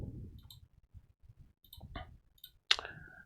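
A sharp computer mouse click on the connect button in Betaflight software stands out near the end, after a few faint ticks over quiet background hum.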